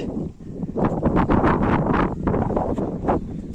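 Gusty morning wind on Mayodia Pass in Arunachal Pradesh buffets the microphone with a steady roar and rumble, rising and falling in bursts throughout; no one speaks.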